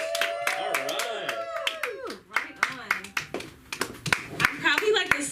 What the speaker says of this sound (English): let's give her a nice warm round of applause for Shells